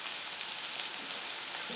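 Garlic sizzles and fries in a pan, a steady crackling hiss heard close up with faint pops and no talking.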